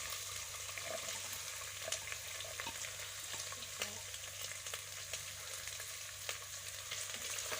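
Chopped onion frying for a Pakistani keema dish, a faint, steady sizzle with light crackling over a low hum, with occasional stirring scrapes and no voices.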